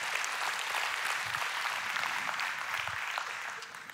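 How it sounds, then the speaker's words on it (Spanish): Church congregation applauding a pastor's wife during a worship service, a sustained wash of many hands clapping at moderate level that tapers slightly toward the end. "dale un aplauso a la esposa"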